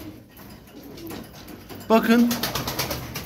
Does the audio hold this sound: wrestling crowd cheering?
no